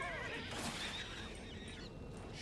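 A horse whinnies in Oblivion Remastered, a long wavering neigh heard alone, with faint hoof clip-clop and game ambience underneath.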